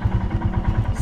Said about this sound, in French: je coupe mon moteur quand même